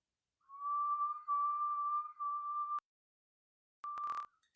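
A person whistling breath through puckered lips during a Kundalini yoga breathing exercise: a long steady whistled tone broken into three connected stretches, then a pause and a shorter final whistle with a breathy burst, clear and close.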